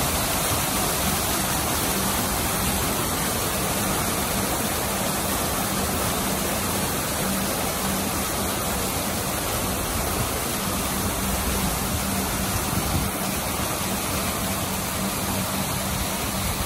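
Water runs continuously over the water floor feature outside Takashimaya in Singapore, a dense, even, broadband rush like a small waterfall that stays steady and fairly loud throughout with no talk.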